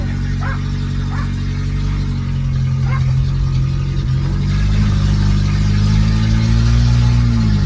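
An Opel car's engine runs steadily as it is shifted into drive, a loud, low, even drone that swells slightly toward the end, with no talk.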